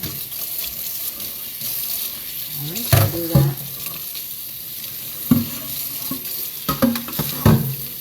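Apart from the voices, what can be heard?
tap water running while washing dishes in sink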